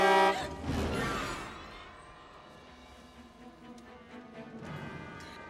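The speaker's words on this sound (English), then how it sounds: "now she accidentally honked the horn" Car horn honked accidentally in a tense Scream 2 film scene, a loud blare at the start that fades into a low droning vehicle tone with background hum, no voices.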